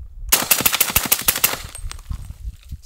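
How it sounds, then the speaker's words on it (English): A suppressed Desert Tech MDRX rifle in 300 Blackout fires a rapid magazine dump, a fast string of muffled shots about a second and a half long, followed by fading echoes and a few quieter thumps. "It's a pretty quiet mag dump if I do say so myself."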